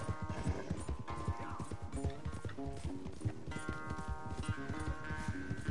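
Hooves of a horse racing at a gallop in the video game Red Dead Redemption 2 thud in a quick, steady rhythm. The pounding sits close and runs continuously, with a brief whinny and game music layered in.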